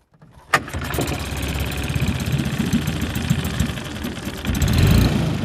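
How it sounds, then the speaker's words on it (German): A lifeguard's rescue motorboat at a campsite lido starts up with a sharp catch, then settles into a steady, loud low rumble that builds slightly toward the end, with no talk. "Bademeisterin Claudia Rödel checkt das Motorboot."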